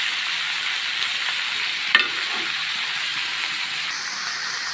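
Potatoes fry in a pan with jaggery, giving a steady, even sizzle that holds throughout, broken once by a brief clink near the middle.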